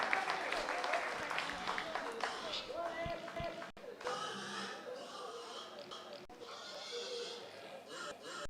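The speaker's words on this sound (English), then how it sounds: "Okay, guys, round of applause, a big one." Applause from the audience at a 4-H county swine carcass show fills the room, with loud, steady clapping throughout and an announcer's voice mixed in.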